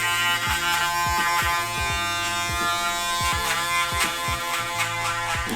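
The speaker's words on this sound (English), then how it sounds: "I just have to come in and just tap that very lightly with my foiler" Electric foil shaver buzzing steadily at close range during a bald fade haircut, with repeated short bursts as the blades are tapped lightly against the head, loud and continuous with no talking.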